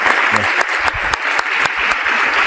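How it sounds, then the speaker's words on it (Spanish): A book-launch audience applauds the author in a strong, continuous burst lasting a couple of seconds, with scattered louder claps standing out. "pido un fuerte aplauso para Nicolás Márquez"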